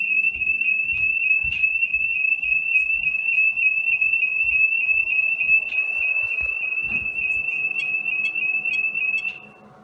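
A SimpliSafe home security alarm is set off during a system test, giving a loud, steady, piercing tone that runs unbroken for nearly ten seconds over faint background handling noise, then cuts off abruptly.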